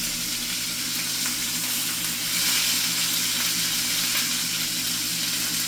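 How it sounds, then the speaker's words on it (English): Pork tenderloin fries in a pan with a steady, close hissing sizzle that holds throughout and swells slightly midway, with no talking. "I don't want to cook it entirely by frying it."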